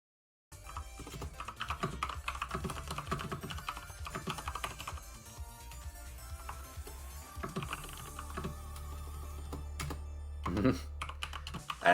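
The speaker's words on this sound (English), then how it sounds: "here I was just typing a message for for anybody who might have not heard me say goodbye" Rapid, continuous clacking of a computer keyboard as someone types a message, steady, close and fairly loud for most of the stretch, with a low hum underneath and a few heavier key strikes at the end.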